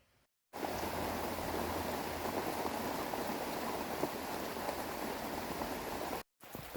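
Steady rain falls outside near Klaipėda, heard from a small shelter room as a dense, even hiss that starts abruptly, holds for about six seconds and cuts off, with no talking.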